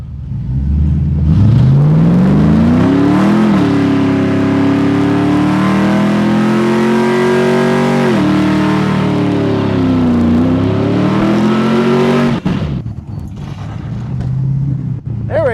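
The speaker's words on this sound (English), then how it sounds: "we're gonna do some really big burnouts" A Chevrolet Camaro SS V8 roars close by during a driveway burnout, its revs climbing and holding high with slight wavering for several seconds before cutting off, followed by a quieter lingering rumble.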